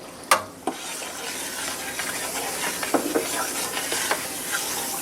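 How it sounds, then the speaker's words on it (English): Baking soda poured into boiling water for pretzels, a continuous close hiss and fizz with a couple of sharp knocks near the start and scattered light taps from the pot throughout. "Pour the rest in."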